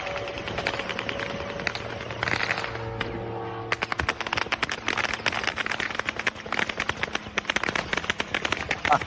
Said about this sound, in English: it sounds like a Star Wars blaster is being shot at this thing